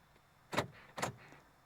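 Central door locks on a car cycle lock and unlock during key fob programming, giving two short mechanical clunks about half a second apart. They are faint and close, with no talking over them.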